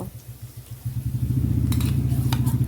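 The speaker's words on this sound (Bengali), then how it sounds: "পেঁয়াজটাকে আমি নেড়ে চেড়ে বেশ ভালো করে ভেজে নেব" Chopped onion fries in mustard oil tempered with black cumin, giving a low steady sizzle with a throbbing burner hum underneath and a few clinks from stirring near the end.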